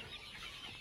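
Chickens on a poultry farm holding about 5,000 birds give a brief, faint burst of clucking against a noisy background.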